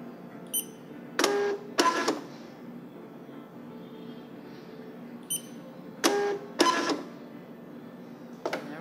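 A TSC label printer with a built-in screen runs a stored print file, giving two pairs of short mechanical printing bursts separated by a quiet hum, then a brief final burst, fairly close and with no talk.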